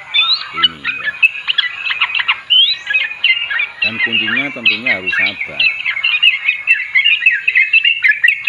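A sooty-headed bulbul held in the hand chirps and warbles continuously, a bright, close run of rapid notes, while someone talks over it in a couple of spoken bursts.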